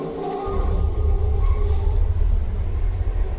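A train runs through an old railway tunnel in Spain, a loud, continuous low rumble that fills the space without pause.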